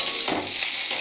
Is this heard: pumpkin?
yes